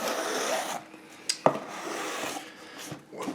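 A knife cuts open the packaging of a graded comic book, with soft scraping and rasping strokes punctuated by a couple of sharp clicks, close and fairly quiet.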